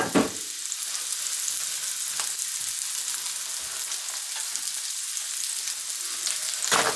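Food sizzles steadily in a hot frying pan, a dense, even hiss with faint crackles and a few stirring scrapes, loud and close with no voices.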